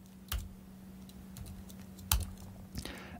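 Typing on a computer keyboard in a quiet room: a few sparse, close key clicks, including a sharper pair of taps, over a faint steady electrical hum.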